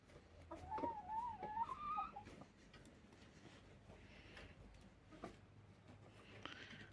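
A hen clucks near a rooster in a backyard flock of domestic chickens. A short run of rising, warbling clucks comes early and is fairly faint. Low farmyard noise and a few scattered soft sounds follow.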